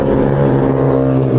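Motorcycles ride downhill on a mountain road, their engines a loud, close, continuous drone with no break.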